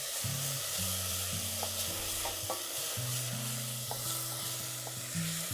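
Chopped onion sautés with salt in a pan, a steady low sizzle and stirring with light scrapes over a soft background hum, no voices.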